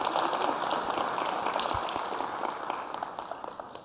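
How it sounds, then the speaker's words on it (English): Audience applause fills a conference session hall at Cisco Live 2026 in Las Vegas, a steady dense wash of clapping held throughout and tapering slightly toward the end. "Big round of applause"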